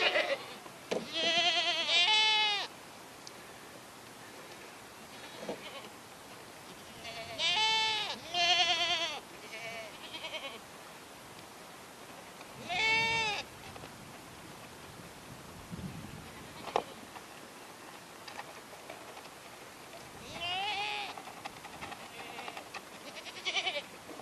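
Goats bleat in loud, wavering calls at intervals, with four or five distinct cries separated by quieter stretches of faint background noise.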